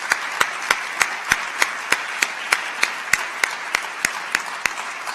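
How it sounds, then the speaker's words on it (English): Applause at a corporate excellence award ceremony, with a steady hiss of many hands and a few sharp, evenly spaced claps standing out near by, without talk. "I'd like to also extend an applause to this year's finalists"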